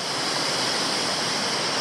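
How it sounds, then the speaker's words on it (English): Ellabana Falls in Queensland, Australia, pours steadily as a dense, loud broadband rush of falling water heard close up, unbroken and with no voices. "I'm currently standing right in the middle of Ellabana Falls."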